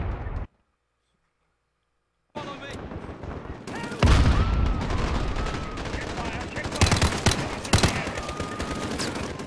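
Loud, close bursts of rapid automatic gunfire and explosive blasts from the Call of Duty Modern Warfare campaign, starting after a brief silent gap and continuing densely to the end.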